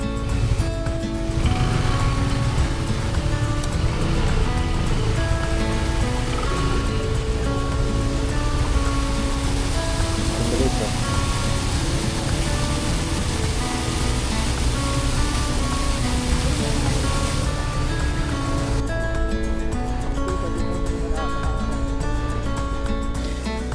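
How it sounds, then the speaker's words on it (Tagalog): Water spills steadily over a small waterfall on the Labi River in Aurora Province, a dense, continuous rushing roar close by with no talk. "may nadaanan kaming isang mini falls, kaya pansamantalang hinintuan muna namin at pinagmasdan ang ganda ng mini falls na to"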